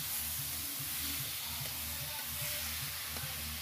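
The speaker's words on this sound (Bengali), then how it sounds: "এখন এগুলোকে নেড়ে একটু ভেজে নিতে হবে।" Black cumin, cumin and turmeric frying in a pan while being stirred, a dense close hiss of sizzling oil over a low steady hum, continuous and without speech.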